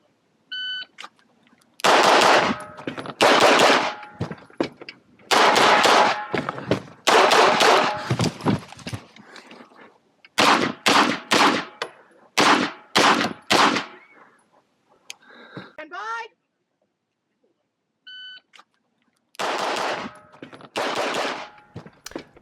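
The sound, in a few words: pistol shots in USPSA race gun competition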